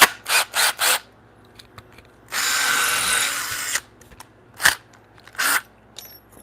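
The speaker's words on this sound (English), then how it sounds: "I'm going to put more of a pilot hole in there because I feel like it's not biting in there." Power drill boring a pilot hole in wood during a bunk bed build, a loud close whir lasting about a second and a half, set between several short drill bursts and clicks.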